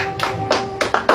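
A church congregation claps for the Lord: about five sharp, scattered hand claps across a brief second, close and fairly loud.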